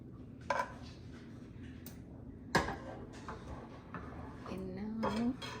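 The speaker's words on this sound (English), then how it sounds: "અને હવે આપણે બાઉલમાં સર્વિંગમાં કાઢી લઈશું" Shahi paneer gravy made without onion or garlic is spooned from a pan into a serving bowl: a few sharp metallic clinks and taps of utensil on cookware, spaced apart and quiet, with a brief scraping squeal near the end.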